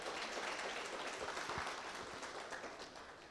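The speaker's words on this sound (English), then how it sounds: "a loud round of applause for Michael" Applause for a speaker named Michael at an actuarial society annual convention, a steady wash of many hands clapping through the hall, moderately distant and fading slightly toward the end, with no talk over it.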